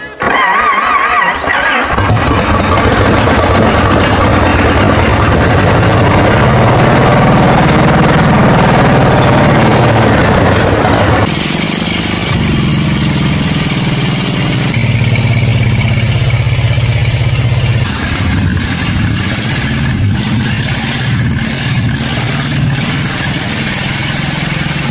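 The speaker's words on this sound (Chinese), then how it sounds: "这发动机呀，终于弄着了" Loud, close start-up of a restored 1946 antique car engine, cranking and catching into a rough, clattering run that holds steady for about twenty seconds with shifts in pitch and no talk over it.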